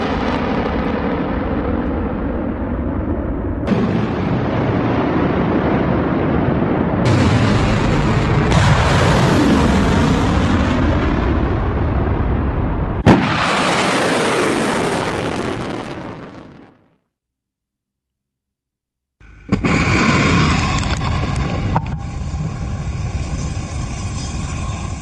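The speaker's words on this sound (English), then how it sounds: "newly released video footage of the IRGC missile launches" IRGC missile launches roar in loud, sustained blasts with rumbling booms in several cut segments, one dropping to silence before another launch starts.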